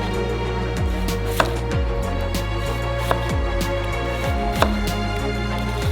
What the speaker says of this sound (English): For this, chop up an onion.